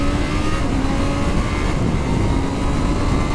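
A Kawasaki ZH2 motorcycle accelerates hard, its engine a loud, dense, continuous roar held close throughout, with no talking.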